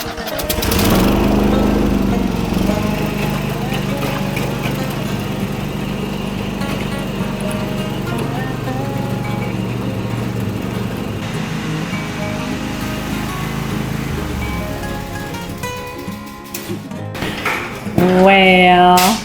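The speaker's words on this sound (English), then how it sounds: "You know, the sound whenever the spindles are all wore out and the blades are..." A Craftsman GT5000 riding lawn mower with worn deck spindles runs loudly nearby, a rough droning engine with rattling and grinding, with a voice over it and a sharp squeal near the end.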